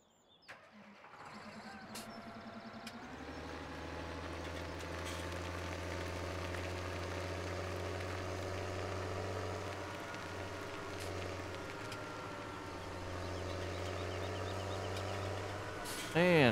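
Farming Simulator 17 tractor engine starting up and settling into a steady low idle, a continuous close mechanical drone holding evenly for most of the stretch.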